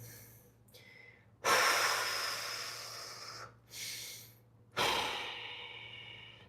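Slow, deep breaths during a live lower-body and middle-splits stretching session: three long, loud airy exhales or inhales, each fading off, with quieter breathing in between and a steady low hum underneath.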